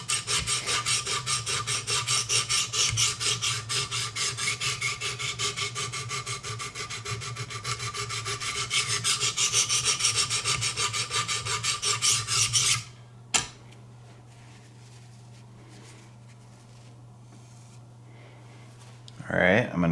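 Repeated rasping strokes of a Benchmade 725 Kodiak Skinner knife blade against a sharpening stone, rhythmic and close, run for about thirteen seconds, then stop abruptly into near quiet with a low steady hum.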